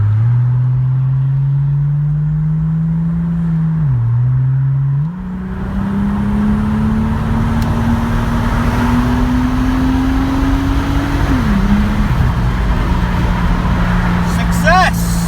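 A Toyota Supra fitted with a new DIY intercooler accelerates under boost, its engine drone climbing steadily through two gear changes, loud and close from inside the cabin.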